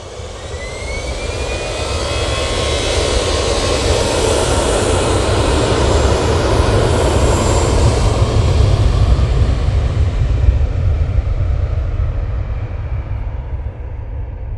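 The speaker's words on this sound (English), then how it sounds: "this Easyjet will be going to Malaga using their 320" An easyJet Airbus A320ceo bound for Malaga at Manchester Airport gives a powerful jet roar with a thin whine in it, swelling over several seconds and then easing slightly, loud and without voices.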